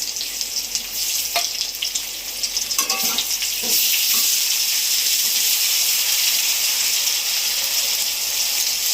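Ground cumin paste hits hot oil in a pan while a Bengali bhetki fish curry cooks. A hiss with a few clinks swells into a louder, continuous sizzle for the second half, with no talk.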